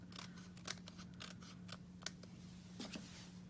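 Scissors snip through excess cardstock at the edge of a handmade card, a few quiet, crisp cuts spaced irregularly over a faint steady hum.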